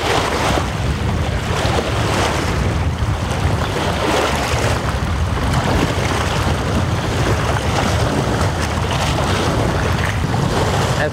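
Waves slap and wash against a fishing boat on open water off Morocco during carp fishing, a steady loud churning rush mixed with heavy wind buffeting the microphone, with no voices.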